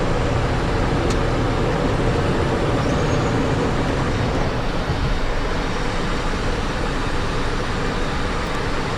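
A Cessna Citation business jet's takeoff roll, heard as a broad, steady roar of engine and rushing air that stays constant and fairly loud throughout, with no speech.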